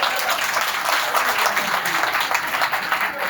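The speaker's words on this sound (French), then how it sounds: "On les applaudit, s'il vous plaît." Loud, dense applause from a crowd, sustained and even throughout without a break.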